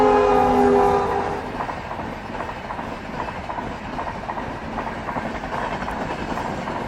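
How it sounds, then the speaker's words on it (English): Loud train horn at the start, then the steady rumble and clatter of a train passing a railway crossing, continuing at moderate volume. "Train isn't visible, but I can hear it."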